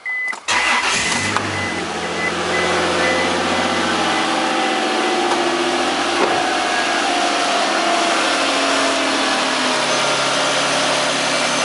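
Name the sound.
car V6 engine starting and idling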